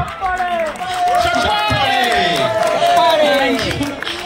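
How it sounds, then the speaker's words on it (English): Audience at a film trailer launch event for the movie Martin, with a dense crowd cheering and clapping loudly and steadily under excited shouts and voices throughout. "whenever I say chappale, you can clap"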